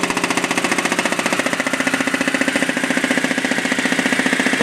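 Blower running during a life cycle test on a Deltrol valve, a loud, close, continuous mechanical drone with a fast, even pulsing throb, no voices.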